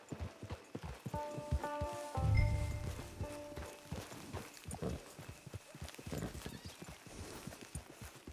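Horse hooves clip-clopping at a steady walking rhythm in Red Dead Online, close and continuous, with a brief whinny-like tone and a low rumble partway through.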